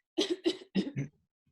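Someone clears their throat close up in four quick, rough bursts, then silence.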